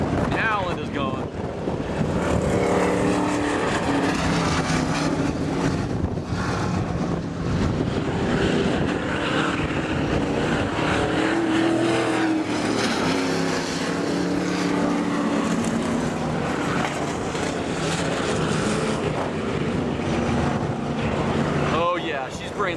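A race car roars along the track, hard enough to lift its wheels. The engine note is loud and sustained for about twenty seconds, with shifting pitch and wind noise mixed in.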